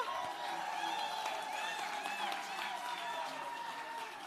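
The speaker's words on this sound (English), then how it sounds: "A big round of applause again." Audience applause fills a forum hall at the African Forum on Urban Forests, a steady, dense wash of clapping with cheering voices mixed in, holding at an even level throughout.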